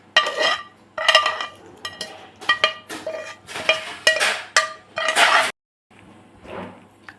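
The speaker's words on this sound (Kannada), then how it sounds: "ಈಗೆಲ್ಲನೂ ಮಿಕ್ಸ್ ಮಾಡ್ಕೋತಾ ಇದ್ವಿ." Winged treebine pickle being mixed with spice powder and oil, a spoon clanking and scraping against a metal vessel in close, irregular bursts, with a brief pause near the end.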